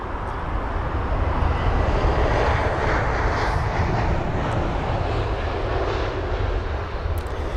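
A Lufthansa City Line aircraft passes at London Heathrow, its engines producing a steady broadband roar of moderate loudness that holds throughout, with no voices.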